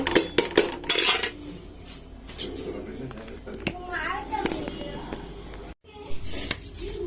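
Pots and utensils clatter in a home kitchen as khichdi is reheated, a run of sharp metallic knocks and clinks up close, mixed with a voice and other talk.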